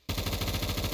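Gunfire from a game weapon such as an M3A1 or M16A3 rattles in a rapid automatic burst, dense evenly spaced shots starting abruptly and running loud and close for about a second.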